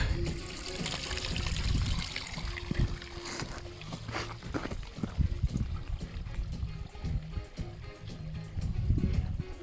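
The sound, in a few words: water trickling at the source of the Morava river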